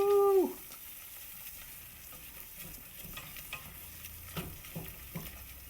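A roux of fat and flour is worked in a pan, with a short tonal scrape at the start followed by quiet, sporadic stirring scrapes over a soft, steady sizzle.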